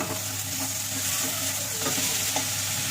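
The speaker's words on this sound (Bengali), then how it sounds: "এবার মশলাটাকে আবার একটু কষাবো" Spice masala with tomatoes is sautéed and stirred in a pan for a mung dal and rohu fish head muri ghonto, a dense continuous sizzle with soft scraping strokes close by and no talking.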